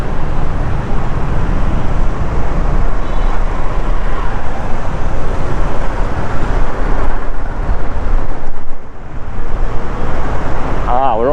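Early morning car traffic on a Davao City street in the Philippines, a continuous loud rumble of passing vehicles with a brief lull near the end, and a voice speaking briefly over it.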